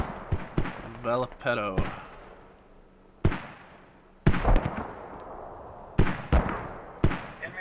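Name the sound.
mortar fire in the video game Squad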